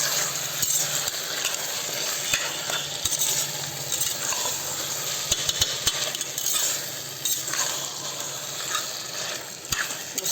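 Biryani masala being stirred in a pressure cooker for a chicken biryani, a continuous frying hiss with frequent metallic scrapes and clinks of the spoon against the pot, close and busy, no voices.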